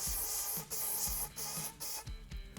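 Repeated hissing bursts of aerosol gun cleaner sprayed into a 12-gauge double-barrel shotgun barrel, about four in rhythm, close and fairly loud, with short thumps between.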